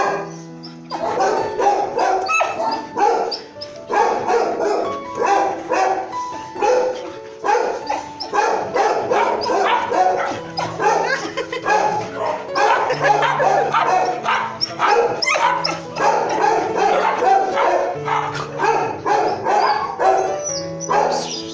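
Many dogs at a municipal kennel in São Lourenço bark, yip and whimper continuously, a dense overlapping chorus loud and close throughout.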